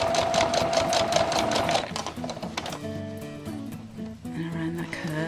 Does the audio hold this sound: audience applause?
no